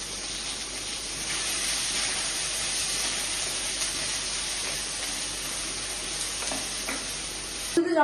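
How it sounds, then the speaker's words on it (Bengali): Chopped onion sizzles steadily in a hot pan with spices for a fish curry, a continuous bright hiss with occasional stirring scrapes near the end. "পেঁয়াজ কুচিটা একটু ভাজা হয়ে গেলে মশলাটা দিয়ে দেবো।"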